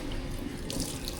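Tap water runs steadily into a sink, a continuous close splashing stream with no voices over it.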